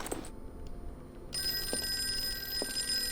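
A telephone rings loudly and continuously in a bright, sustained tone, starting after a short quiet stretch and carrying on to the end.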